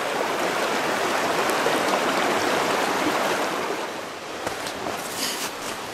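River water rushing in the dark during a steelhead fishing trip, a loud steady broadband roar of fast current close by, with no talk.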